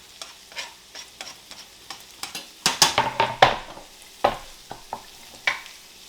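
Onions going into a hot frying pan for Tex-Mex chicken bowls, with bursts of crackling sizzle and scraping stir strokes against the pan, loud and close, no talking.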